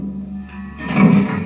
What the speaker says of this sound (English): Let's turn on some distortion.